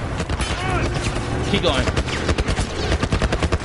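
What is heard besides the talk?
gunfire in the video game The Last of Us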